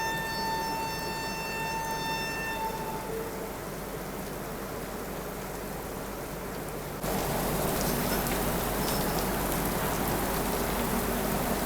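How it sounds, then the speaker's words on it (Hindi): Steady heavy rain hisses throughout at a railway station in Hajipur, India, growing louder partway through, with faint tones fading out early on. "लेकिन बारिश ही इतनी पड़ रही है अपनी हाजीपुर में।"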